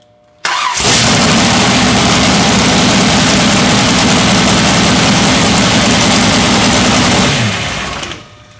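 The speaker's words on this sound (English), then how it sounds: "Okay, we're going to start the engine." An engine cranks and catches, then runs at a steady loud drone for about seven seconds before it winds down, with no voices over it.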